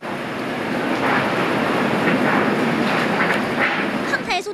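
Strong wind and rain from Typhoon Soudelor sweep through Taipei as a loud, continuous roaring rush, heavy buffeting hitting the microphone throughout, with a brief flutter at the very end.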